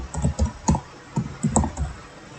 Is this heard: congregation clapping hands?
no